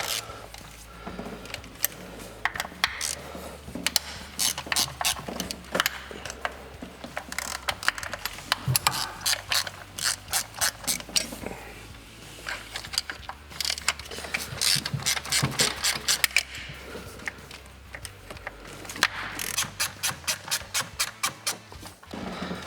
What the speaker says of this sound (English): we grab our 5mm Allen socket and let's bust this top valve cover loose.